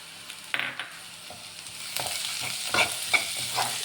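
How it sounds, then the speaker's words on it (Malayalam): Sliced onions for kuzhi paniyaram batter hiss and sizzle softly in a pan, with a few scraping stirs and light clinks breaking up the steady quiet frying. "അപ്പോൾ നമുക്ക് ഈ സവാള ഇടാട്ടോ"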